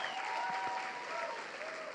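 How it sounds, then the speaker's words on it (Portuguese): A church congregation claps in a continuous, dense round of applause, a steady wash of many hands at even loudness, with a faint tonal hum running underneath. "Uma salva de palmas novamente."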